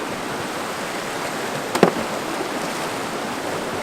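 Coal Creek in Utah flows over rocks in a continuous broadband rush of water that stays steady and fairly close, broken only by one brief sharp knock midway.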